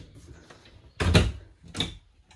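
A kitchen cabinet door with glass panels in a 2017 Jayco Eagle 330RSTS camper is pulled open, giving a close, sharp thunk and clatter followed by a softer knock a moment later.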